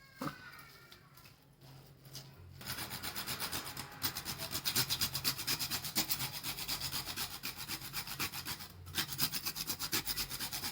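Nutmeg is grated over a pan of dry coconut filling for modak, giving a rapid rhythmic scraping rasp that starts after a quiet moment and continues steadily, close and fairly loud.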